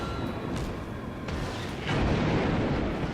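Main guns of the Sampson US destroyer fire in World of Warships, heavy booming salvos rolling into one another over a dense, steady rumble of naval battle noise.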